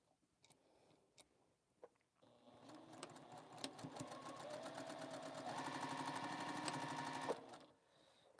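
A sewing machine runs steadily while stitching the sides of a fabric sewing caddy, a loud continuous rapid whir of needle strokes lasting several seconds after a few quiet taps, then stopping abruptly.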